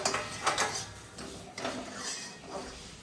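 Cooking pots and metal utensils are set out in a home kitchen for making sheera. Sharp clinks and clatters come at irregular intervals against a soft, steady background hum.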